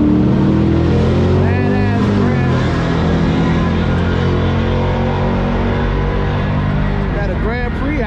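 A car roars down a drag strip at a race track, a loud, sustained engine blare with rising and shifting pitch that fills the whole stretch, a voice talking faintly underneath.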